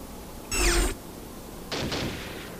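Gunfire from a weapon's secondary fire mode in the first-person shooter Shogo, two short loud bursts about a second apart, each sharp and close, against quiet background noise.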